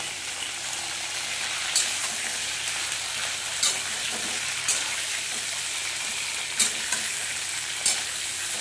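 Vegetable stalks saute in hot oil with salt in a pan, a dense steady sizzle up close, broken by a few sharp scrapes or taps of a spatula.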